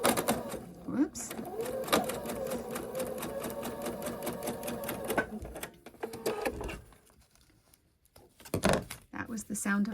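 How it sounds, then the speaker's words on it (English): A sewing machine stitching fast as its bobbin catches the thread underneath, a dense run of rapid mechanical clicks for about five seconds, then scattered clunks and handling knocks, close by. "That was the sound of my bobbin catching the thread underneath."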